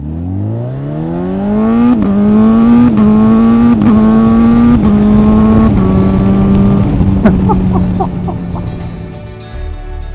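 A loud 2025 Honda CB1000 Hornet SP motorcycle engine revving up and holding a high, buzzing pitch, with quick dips between gears before easing off.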